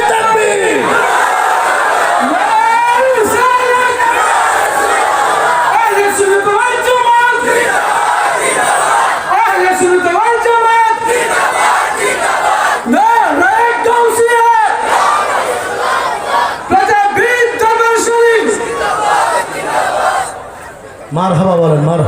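A large crowd at an outdoor Bengali religious gathering roars back in unison to the takbir call, with repeated loud chanted shouts rising and falling in waves across the clip.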